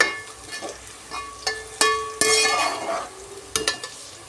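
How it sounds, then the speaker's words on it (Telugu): Onions browning in a pan for biryani, with a crackling sizzle under a few sharp metallic clinks and spoon knocks, then a louder burst of frying hiss midway, close and brief. "ఇంకా 2 నిమిషాలు బాగా ఫ్రై చేసుకుందామండి. ఎర్రగడ్డ ఎంత ఫ్రై అయితే, బ్రౌన్ కలర్లో ఎంత బాగా ఫ్రై చేస్తే అంత టేస్ట్ వస్తుందండి బిర్యానీ."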